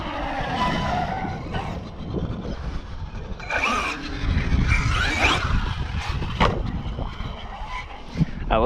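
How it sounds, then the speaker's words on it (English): Tires squeal on a 1/5 scale Beefcake Outcast 8s RC car running outdoors, with a buzzing motor rising and falling, and short skids breaking through mid-clip. "I love how the tires squeal"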